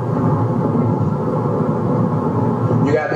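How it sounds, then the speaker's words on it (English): A car's engine strains during a police chase, a loud, steady low rumble and drone heard from inside the cabin, continuous with no breaks. "I can hear the engine struggling."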